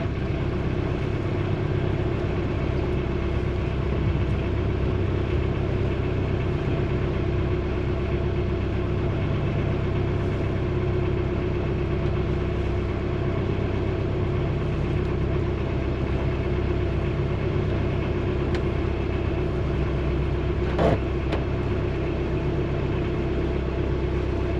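A sailboat's engine idles steadily at the dock while the boat backs out, a continuous low rumble with no talking.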